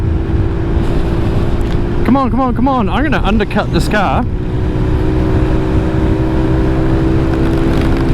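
Italjet Dragster 200 scooter at full throttle on a 100 km/h road, a loud, steady engine drone with wind rush throughout, while the rider talks excitedly over it for a couple of seconds.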